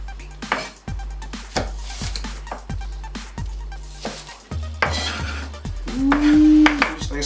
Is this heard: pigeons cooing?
no